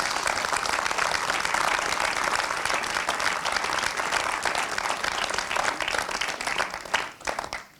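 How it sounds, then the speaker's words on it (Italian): Sustained, dense audience applause fills a film talk and Q&A event, holding steady before thinning out near the end. "ci sta tutto l'applauso"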